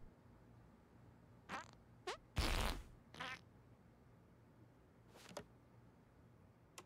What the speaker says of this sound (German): Auch auf Befehl immer pupsen kann.